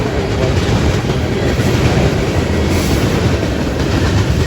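A freight train with ABM hoppers and coil cars rumbles steadily past at close range, a continuous loud roar of wheels and rail noise with a faint clatter and no voices.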